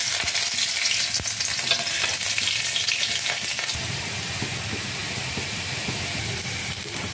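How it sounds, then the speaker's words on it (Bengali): Garlic and green chilli sizzle in hot oil for a leafy greens jhol, a steady, loud, close crackling fry that continues throughout with no voices. "তেল গরম হয়ে গেছে"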